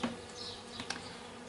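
Honey bees buzzing around an opened comb during a vacuum rescue of a colony, a faint, wavering drone with a couple of louder passes as bees fly close.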